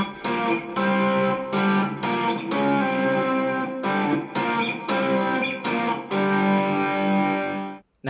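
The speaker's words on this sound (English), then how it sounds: "having a little distortion when playing on an electric guitar will sound more original and cool" Distorted electric guitar playing a beginner solo at full speed, a run of sustained, bent and repeated notes with short gaps between phrases, loud and close before cutting off at the end.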